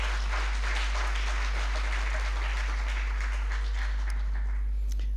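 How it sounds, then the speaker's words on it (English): An audience at a Bharatiya Vidya Bhavan cultural event in Bangalore applauds, a moderate wash of clapping over a strong low electrical hum, thinning out toward the end. "Please clap."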